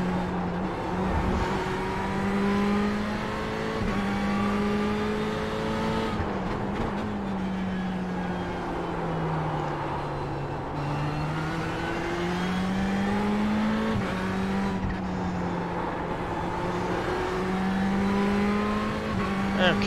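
Ferrari 488 GTE race car in iRacing at Spa, its engine droning steadily with rising and falling revs through gear changes and brief lifts, heard continuously from onboard over a long lap stretch, with a voice talking in places.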